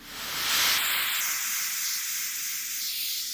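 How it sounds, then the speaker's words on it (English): SynthVR's Prime Echo module runs with its color dial turned high, so the repeats grow brighter. A hissy, airy wash of echoed tone swells, then gently fades and pulses, alone and without talk. "you can hear the echo gradually brighten."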